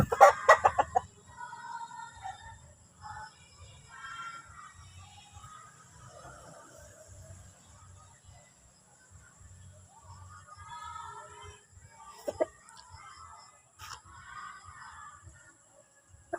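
Chickens clucking and crowing through a vital-signs check, a rooster's call opening loudly at the start, then steady soft clucks and cackles over a low rustling handling noise, with a sharp bird call near the end.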